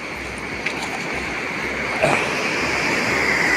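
Floodwater surges under a village bridge in a steady, loud, broadband rush, a continuous roar with a few splashy bursts and a faint higher whine near the end.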